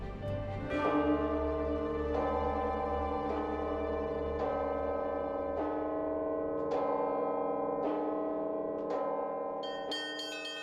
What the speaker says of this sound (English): Bell ringing here is a real art